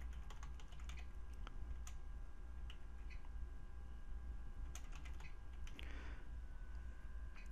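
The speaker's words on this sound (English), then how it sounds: "I would go ahead and type in" Typing on a computer keyboard, faint scattered key clicks at an irregular pace over a low, steady background hum.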